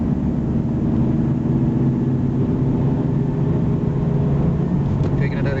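A Honda Civic rolls along at highway speed, a steady low droning hum from a worn wheel bearing blending with road and engine noise, constant and loud throughout with a brief higher rattle near the end.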